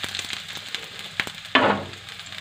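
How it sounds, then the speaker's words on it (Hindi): Chopped onions drop into a hot kadai for veg manchurian, setting off a sudden loud burst of sizzling about halfway through, after a quieter stretch of light crackles and taps. "ये कढ़ाई मेरी गर्म हो गई है, अब इसमें हम प्याज डाल रहे हैं"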